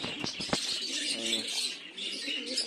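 Kaldoma pigeons kept in a loft coo softly with low rolling calls, close by, over a steady hiss of background noise and a few sharp taps.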